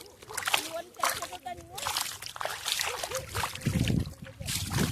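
Water splashing and sloshing as a freshwater fish is caught by hand in a shallow stream, with irregular close splashes and trickles under continuous talking.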